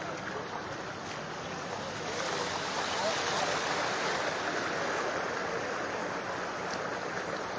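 Fast-flowing water of the Barak river at Sonabari ghat rushes in a steady, loud broadband roar that stays constant throughout, with no voices heard.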